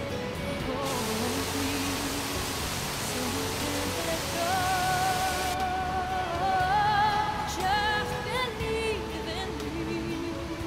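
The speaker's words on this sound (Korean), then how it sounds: "다리 아래로 내달리는 폭포는 정말 힘차 보인다" Powerful waterfall rushing beneath a footbridge in Quebec, Canada, a steady broadband roar of falling water filling the whole clip, with faint voices and tonal sounds rising over it midway.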